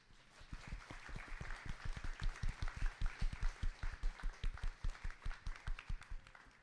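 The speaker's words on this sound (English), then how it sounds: "Maybe some applause for our speakers." Audience applause for the speakers at a talk, a rapid, even clatter of clapping that holds steady throughout, heard from some distance at modest volume.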